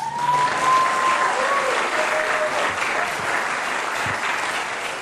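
Sustained audience applause at a news conference announcing new food policy measures, a dense steady wash of many hands clapping at close range, with brief whistle-like tones near the start.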